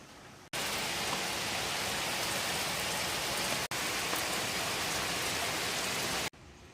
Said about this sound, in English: I think right now I'm just gonna kind of wait for the rain to stop